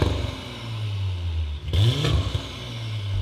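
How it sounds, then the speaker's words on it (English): Audi B9 S4 with a catless downpipe idles with a deep, steady rumble, then a single sharp rev climbs and falls around the midpoint before settling back to idle, close and fairly loud with no talking. "we'll give a couple revs and stuff"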